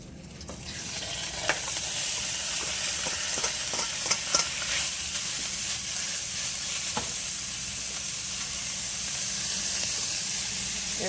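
Ground beef sizzles loudly in a hot pan for egg rolls, a dense continuous hiss and crackle with a few stirring scrapes, close up and with nobody speaking.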